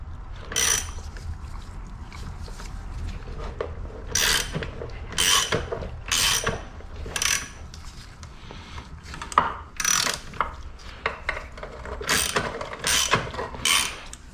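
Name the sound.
ratchet tightening bolts to split Honda NSR engine cases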